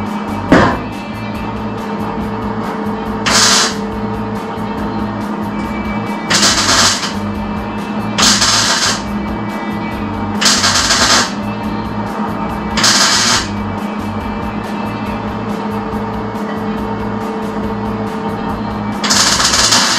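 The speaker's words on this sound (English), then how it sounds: "This lip is kind of bent, a little awkward, so we're gonna fix that with a hammer and dolly." A hammer and dolly straighten the bent lip of a 1967 Mustang fender apron: about seven sharp metal strikes, spaced a few seconds apart, ring out over a steady background hum.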